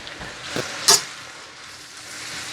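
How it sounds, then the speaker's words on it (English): Vegetables sauté in a hot pan alongside chicken and potatoes, a faint continuous sizzle with a few brief sharp clinks or stirring scrapes, no talking. "I want to hear that sizzle when it hit the pan"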